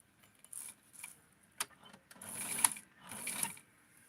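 A sewing machine stitches a dart slowly in short, quiet bursts of whirring, with brief pauses between runs and a sharp tick in the middle, close by in a quiet room.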